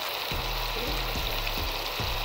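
Tomatoes and carrots fry in a pan for a Hyderabadi matar pulao, giving a steady close hiss of sizzling oil with low thumps from the cooking at regular intervals.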